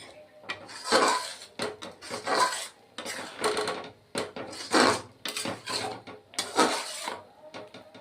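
Cooked spinach and moong dal get scraped from a pot into a serving dish, with repeated rasping scrapes and clinks of a utensil against metal in uneven bursts, close and fairly loud.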